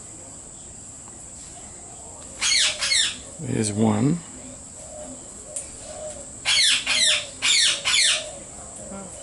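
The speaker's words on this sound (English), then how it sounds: "I've just had a juvenile Maggie turn up, which is scaring these two king parrots" Pair of king parrots calling near a seed feeder, repeated sharp squawking bursts in two clusters alongside one lower descending call, over a steady insect drone, with a brief spoken remark.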